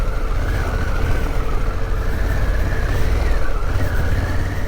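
A Harley-Davidson Pan America adventure motorcycle rides an off-road festival trail, its engine a steady, loud, close drone with wind rumble, the pitch wavering slightly as the throttle shifts over bumpy ground.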